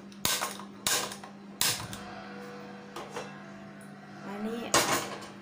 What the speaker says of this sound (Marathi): त्यासाठी मी एक पातेला ठेवते